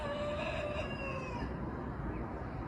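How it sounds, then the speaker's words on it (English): A rooster crows somewhere in the background, its drawn-out call faint and distant beneath a constant wash of broadband noise. "There's the rooster in the background."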